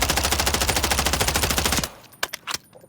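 An MTZ rifle fires in Call of Duty Warzone as a fast, loud sustained burst of evenly spaced shots, followed by a few scattered clicks and thumps.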